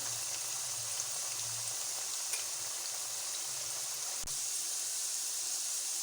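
Potatoes fry in a pan for a Spanish omelette, a faint, even sizzling hiss that carries on without a break, with a single soft tap near the end.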